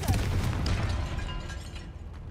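A Confringo spell going off in Hogwarts Legacy inside a tomb, with a short fiery burst and a low boom that fades into a dull rumble, heard alone without talk.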